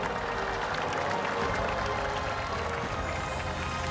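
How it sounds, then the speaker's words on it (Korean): A large outdoor crowd at a national ceremony in Gwanghwamun Square welcomes the president with applause, a broad, steady roar of clapping and crowd noise at a distance. "대통령 내외분께서 자리에 착석하실 때까지 뜨겁고 열렬한 박수로 환영해 주시면 대단히 감사하겠습니다"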